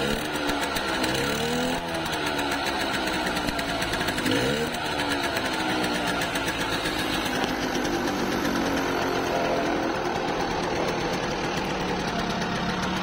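A 1962 DKW Hummel 50cc motorcycle's small engine runs steadily close by, a fast buzzing, ticking putter with a couple of brief revving swells early on, otherwise even throughout.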